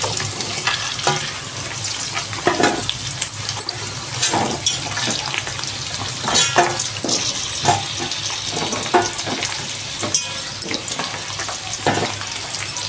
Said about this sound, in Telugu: బాగా ఫ్రై కావాలి బెండకాయని